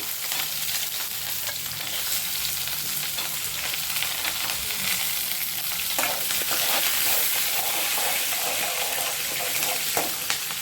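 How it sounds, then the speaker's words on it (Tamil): Onion, green chilli and garlic fry in a pan over low heat, giving a steady close sizzle with occasional stirring scrapes and no talk. "நம்ம அடுப்பில் சிம்மில் வச்சு வெங்காயம் போட்டுக்கலாம். வெங்காயம் பச்சை மிளகாய் எல்லாமே போட்டுக்கலாம்."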